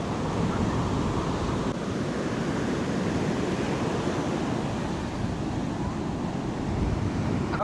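Ocean waves surging on a beach under dark rain clouds: a dense, steady roar of surf mixed with wind buffeting the microphone, continuous and loud, no speech.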